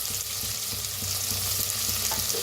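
Crushed ginger, garlic and green chili, with onion, frying in a pan for a jackfruit vegetable dish: a steady, close sizzle with soft stirring scrapes throughout.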